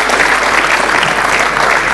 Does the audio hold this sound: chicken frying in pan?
no